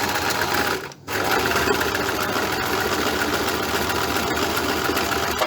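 Domestic sewing machine stitching a buttonhole on fabric, a steady close whirring hum with a brief pause near the start before the motor resumes and runs evenly to the end.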